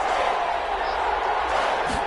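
Broad, dense roar of a stadium crowd in a football video game, a steady wash of noise with a faint thump near the end and a voice talking over it.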